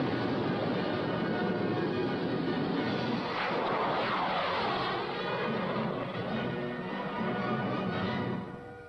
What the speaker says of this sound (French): On va prendre un avion.